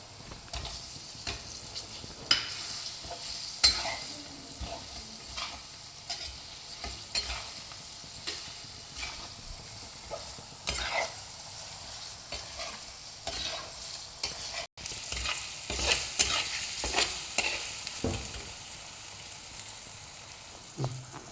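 Quartered tomatoes stirred into a fish head curry frying in a pan make a soft, steady sizzle broken by repeated scraping and stirring strokes, fairly quiet and close, with no talking.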